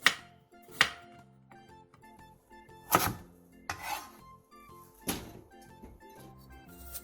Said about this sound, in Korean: 당근 조금을 호박과 비슷하게 반달 모양으로 잘라주세요